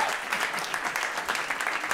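A comedy show audience in Berlin claps steadily, a dense crowd applause that holds at an even level throughout with no talk over it.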